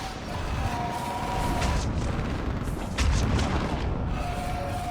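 Artillery fire support in the Mass Effect 3 video game, during a battle on Thessia: heavy booms and blasts rumble continuously, loud and dense, with a sharper burst about two-thirds of the way through.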